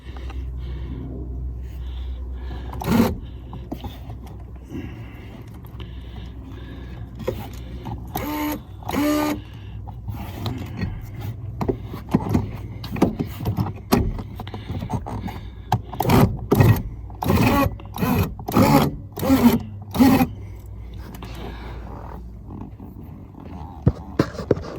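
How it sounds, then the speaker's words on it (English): Electric car seat rail gears binding, giving scattered grinding and scraping bursts that grow denser and louder toward the middle, over a steady low hum. "the gears on the rail is not working properly. It's sort of like binding."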